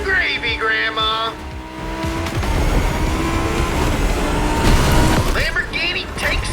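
Lamborghini race car in The Crew Motorfest on a mountain course, its engine roaring loud and close with harmonic revving, broken by a burst of tire squeal and a heavy thud midway, while talk runs over it.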